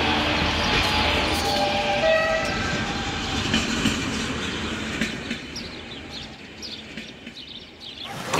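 A train runs through the High Tatras mountains with a steady, loud rumble and rattle of the cars on the track, slowly easing off toward the end.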